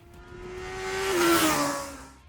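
A Honda CB1000 Hornet SP inline-four motorcycle on its stock exhaust revs up loud and raspy and then falls away, the pitch climbing and dropping as it passes close.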